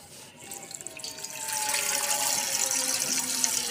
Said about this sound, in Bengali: কলটা খোল তো, আস্তে খোল খোল।